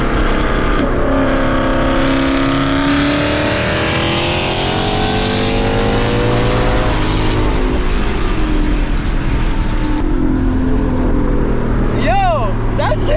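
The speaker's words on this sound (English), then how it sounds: "is this a race car?" Loud race car engine close by, revving hard with rising and falling pitch sweeps over a deep, constant roar.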